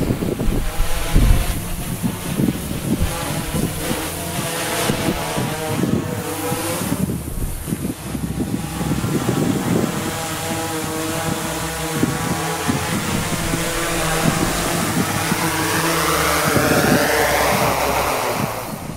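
Wind roars and buffets the microphone outdoors during a DJI Inspire drone flight, a continuous broadband rush that swells and eases slightly, with no voices.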